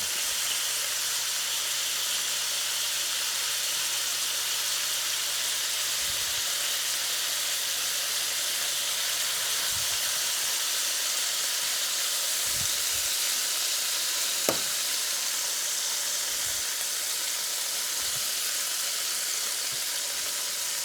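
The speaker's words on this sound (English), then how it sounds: "the water's cooking out, the steam" Cube steak made from pork loin sizzles steadily in a pan with a constant hissing as water steams off, with a few faint knocks and clicks along the way.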